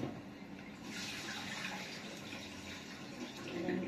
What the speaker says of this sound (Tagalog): Hugas-hugas tayo ng bigas.